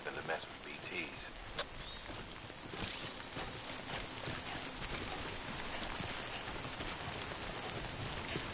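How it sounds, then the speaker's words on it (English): Steady rain falls in the video game Death Stranding, a constant hiss of drops pattering on surfaces with occasional louder splashes and knocks, while a voice talks over it. "Good thing it was raining."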